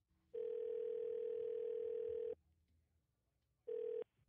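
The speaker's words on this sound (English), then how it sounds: "I gave a phone call to Frito-Lay." A telephone line tone sounds while a call is placed to Frito-Lay. A steady tone holds for about two seconds, pauses, then starts again briefly, clear and alone.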